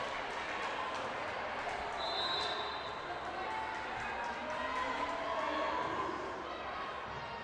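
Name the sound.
volleyball crowd cheering after a block at the net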